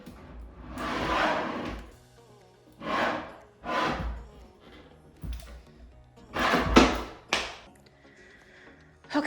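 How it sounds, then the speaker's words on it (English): A sticking drawer in a bungalow under renovation scrapes and thuds roughly several times, with uneven bursts of grinding wood and knocks spaced a second or two apart, fairly close and loud. "surely a drawer shouldn't open like this"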